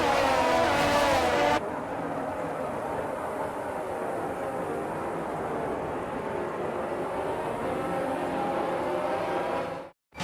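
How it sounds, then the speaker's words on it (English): Formula 1 cars on the formation lap at the 2022 Bahrain Grand Prix: a sustained, broad engine roar that drops slightly in level after a louder opening and cuts off abruptly at the end. "As the cars make their way back to the starting grid to form up and get ready for lights out"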